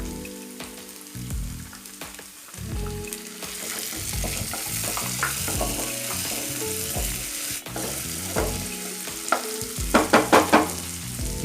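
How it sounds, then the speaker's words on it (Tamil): Carrot and capsicum sauté over a slow flame in a pan for pasta, a steady loud sizzle with repeated stirring scrapes and clatter, rising into a few sharp bursts near the end, no voices. "இப்போ காய்கறி சேர்த்து ஒரு 2 நிமிஷம் வரைக்கும் ஒரு ஸ்லோ ஃப்ளேமில் வச்சு நல்லா குக் பண்ணுவோம்."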